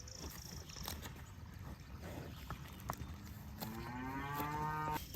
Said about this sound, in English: We're gonna let the cows out on pasture.